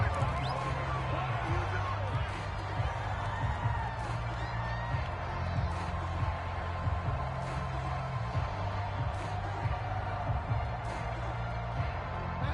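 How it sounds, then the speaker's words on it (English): Stadium crowd noise from a PS4 American football video game, a steady dense roar with cheering after a touchdown, continuous and loud throughout. "And this crowd has certainly liked what they've seen."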